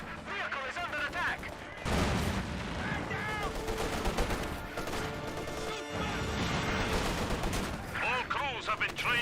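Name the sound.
gunfire in the video game Company of Heroes 2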